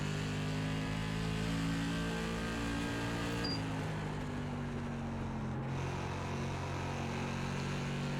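SK Modified race car engine in iRacing, a steady loud droning hum with layered harmonics that dips and shifts partway as the throttle is eased and reapplied, continuous throughout with no talk.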